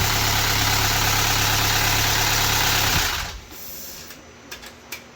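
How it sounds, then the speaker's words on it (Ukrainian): A newly installed engine in a Kia Soul runs at a loud, steady idle with a mechanical whir, then cuts off abruptly after about three seconds, leaving quieter background noise and a few faint knocks. "Ставили мотора, пробуємо заводити."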